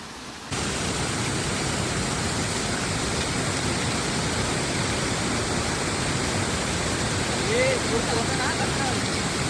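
Asaniye waterfall, a hidden waterfall in the Konkan, pours in a strong, steady roar of rushing water close by. The sound is loud and unbroken for the whole stretch.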